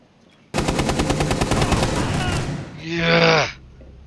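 Rapid automatic gunfire in Rainbow Six Siege on the Outback map, shooting through the floor below site B: one long, loud, evenly spaced burst of close shots, followed by a short ringing, sliding tail.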